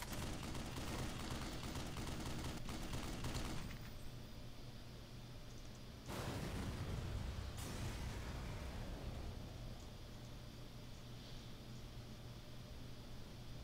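A mounted gun fires in the Black Mesa video game, dense sustained bursts of rapid gunfire that stop, resume for a short stretch, then fall away to a quieter hiss, all faint overall with no talk.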